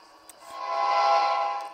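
A train horn on an express passenger train bound from New York to Texas sounds one sustained, steady blast, fairly close and alone, swelling and then fading slightly over under two seconds.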